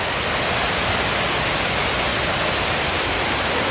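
Heavy rain in Singapore pours as a constant, loud, broadband roar that stays even throughout and has no breaks or voices.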